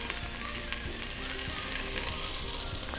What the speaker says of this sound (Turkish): soğanı, patatesi ve havucu e, böyle aromalarını dışarı çıkarmak için birazcık tavada e, çevireceğiz